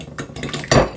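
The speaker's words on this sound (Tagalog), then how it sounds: "Scramble natin yan." Eggs being scrambled in a pan, with quick close clinks and scrapes of a utensil against the pan and a brief louder scrape near the end.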